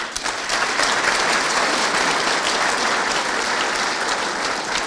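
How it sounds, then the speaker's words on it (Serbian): An audience at a book launch and exhibition opening applauds, with a dense, steady, loud clapping from many hands that lasts throughout and has no voices over it. "Molim vas još jedan veliki aplauz."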